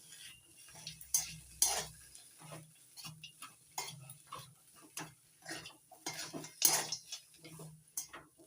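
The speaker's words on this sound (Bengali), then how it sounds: "এবার ভালো করে মিশিয়ে নিচ্ছি।" A cabbage mixture with fried peanuts and chopped coriander being stirred by hand, giving close, uneven clinks and scrapes of a utensil against a bowl in an irregular rhythm, with no talk.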